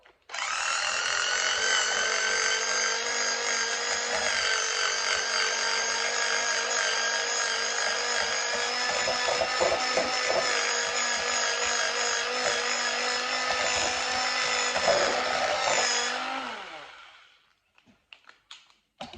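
An electric whisk beating doughnut muffin batter gives a loud, steady whirring drone for about sixteen seconds, then cuts off and winds down, leaving a few faint clatters.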